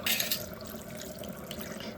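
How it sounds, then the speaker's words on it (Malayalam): Water pours into a mixer jar while fish thoran and chilli fish curry are being made, a steady close splashing with a faint tap-like rush. "മിക്സർ ജാറിലേക്ക് നമ്മൾ വെള്ളം ഒഴിച്ചു കൊടുക്കുക"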